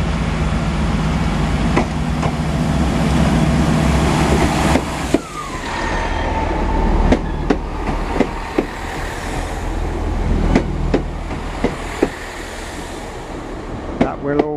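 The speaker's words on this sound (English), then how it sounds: "This is the train that we alighted from." A passenger train pulls away from a station toward Ealing Broadway, a heavy low rumble and rising mechanical drone with repeated sharp clanks and wheel knocks, fairly close, sustained over the whole stretch.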